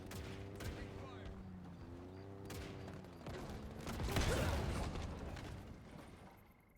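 Gunfire in the Halo Infinite multiplayer beta, with bursts of shots and a heavier boom-like stretch near the end, mixed with game effects and a voice speaking throughout.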